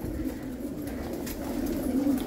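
Soft, low cooing from Pakistani White Bar pigeons in a breeding setup murmurs continuously in the background, a gentle steady burble with no voices.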